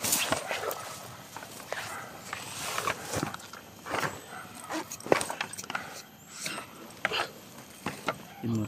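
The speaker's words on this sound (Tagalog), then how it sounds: "So ang daming aso" Several dogs bark in scattered, irregular bursts at a moderate distance, mixed with rustling, footsteps and some indistinct talking.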